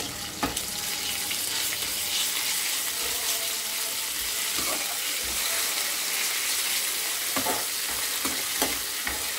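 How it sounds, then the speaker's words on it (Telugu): Onions frying with ginger garlic paste for a paneer curry, with a steady sizzle and occasional scrapes and taps of a spoon stirring the pan, close and moderately loud, with no talking. "ఆనియన్స్ కొంచెం ఫ్రై అయ్యేదాకా వెయిట్ చేద్దాం."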